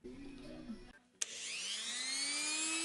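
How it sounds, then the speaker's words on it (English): A small Dremel rotary tool fitted with a wire brush spins up with a sharp click, then whines steadily at high pitch, cleaning a motorcycle steering head area; quieter handling noises come before it starts. "I'm literally just going to run around, little Dremel with wire brush on"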